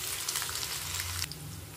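Mustard seeds, cumin and crushed garlic crackle and sizzle in hot oil for a chutney, a brief, steady fry with no voices.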